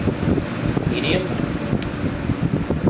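A Kmart K-223 first-generation box fan runs steadily on medium speed, giving a continuous broadband whoosh of moving air with a low mechanical hum and no pauses throughout.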